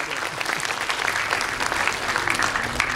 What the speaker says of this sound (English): May I have a round of applause, please?